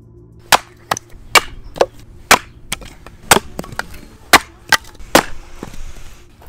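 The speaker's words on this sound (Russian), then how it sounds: "Затем раскалываем их топором на более мелкие." An axe splits logs into smaller firewood, striking about a dozen times in sharp, irregular cracks, each blow splitting with a crisp woody snap, close by with no talking.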